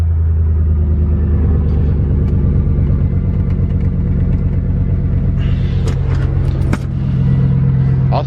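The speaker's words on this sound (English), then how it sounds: "I'll warm this truck up." A pickup truck's engine idles steadily up close, a deep continuous rumble with a low throbbing pulse, holding even for several seconds with faint clicks and brief rattles near the end.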